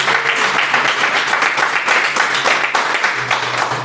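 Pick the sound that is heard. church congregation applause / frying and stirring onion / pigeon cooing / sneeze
church congregation applause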